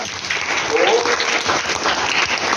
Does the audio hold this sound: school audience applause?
yes